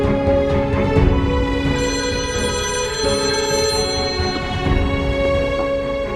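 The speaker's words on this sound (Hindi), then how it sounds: "किसका फोन है?" An electronic telephone ringtone in a domestic drama scene, a steady tonal melody ringing continuously and fairly loud over a low background for several seconds, with no talk.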